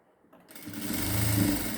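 A sewing machine stitches a blouse neckline, starting from near silence and ramping up into a steady close whirring hum that keeps going to the end.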